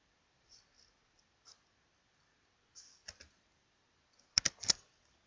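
Scattered keystrokes on a computer keyboard while entering a command in a terminal: a few isolated soft taps, then a brief quick cluster of sharper clicks near the end, quiet and close in an otherwise silent room.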